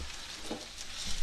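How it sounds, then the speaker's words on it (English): Cubed green tomatoes frying in a hot pan give a steady, close sizzle, with a brief louder crackle partway through and a few stirring or turning sounds near the end. "But look here when they start frying."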